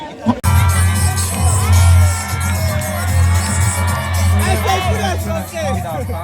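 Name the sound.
students screaming and cheering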